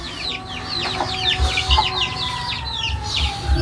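Chickens cluck and chirp in quick overlapping bursts, fairly close, over a steady low background hum.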